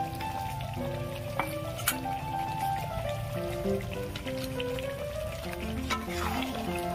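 Goat fat frying in a pan for a chicken curry, a steady soft sizzle and crackle like light rain, with occasional clinks of utensils and faint background tones throughout.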